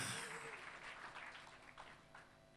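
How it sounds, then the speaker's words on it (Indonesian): Congregation applauding during an Indonesian church service held in a hall, a steady spread of clapping that lasts throughout without a break. "Dan berikan tepuk tanganmu."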